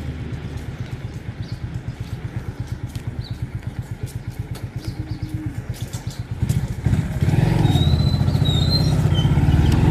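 A motorcycle engine runs steadily on a road in Kathmandu with a fast, even low putter. The engine note thickens and grows louder near the end as the bike revs or pulls away, with no talk over it.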